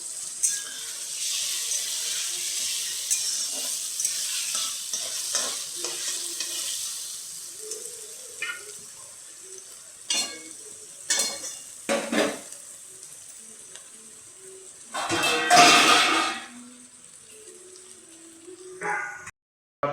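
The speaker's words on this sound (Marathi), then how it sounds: "मिरची आणि बटाटे चांगले फ्राय करून घ्यायचे" Chilies and small potato pieces frying in a pan for sabudana khichdi, a steady hiss with brief clatters of stirring and a louder burst of sizzle near the end.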